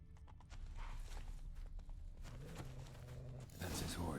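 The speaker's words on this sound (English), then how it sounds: "That's his horse." Horse hooves clop steadily on the ground, and a horse whinnies toward the end amid busy outdoor ambience in The Witcher 3: Wild Hunt at Kaer Morhen.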